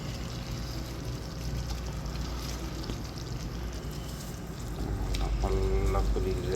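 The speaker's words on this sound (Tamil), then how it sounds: "நல்லா கொதிக்குது." A pan of paneer masala curry bubbles and simmers steadily, a soft continuous hiss and gurgle that swells a little louder toward the end.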